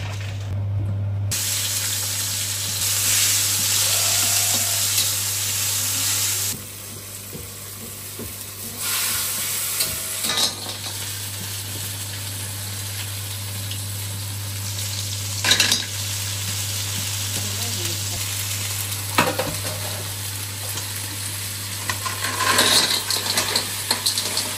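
Shellfish frying in a pan outdoors at Okains Bay, New Zealand, a steady sizzle with occasional scraping stirs and clinks over a constant low hum, close and continuous with no talk.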